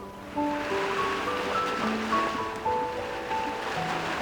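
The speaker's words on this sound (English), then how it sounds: "why do I hear waves on your end?" Ocean surf heard through a phone call in the video game Love and Deepspace, with soft rolling wash and gentle swells under sustained musical tones, moderate and continuous, no speech.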